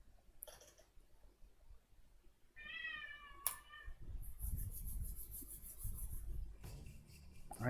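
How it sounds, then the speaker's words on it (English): An excited house cat gives one clear meow before dinner, followed by rustling, clicking and shuffling movement close by indoors. "That's my cat. He's very excited about his dinner."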